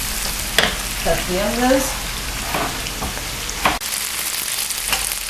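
Peppers sizzle and crackle in a hot pan for Jamaican escoviche fish while a spoon stirs them, a close, steady frying hiss with scraping strokes and a brief spoken remark.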